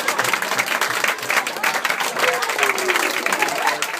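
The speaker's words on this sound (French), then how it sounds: "Merci d'applaudir Colette" An audience at a café hypnosis show applauds a volunteer, dense continuous clapping from a close crowd with a voice briefly audible beneath it.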